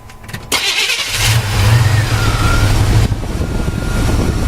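A 1995 Chevrolet Suburban fitted with an HHO setup cranks and fires up, the engine catching after a brief starter whir and settling into a loud, steady idle close by.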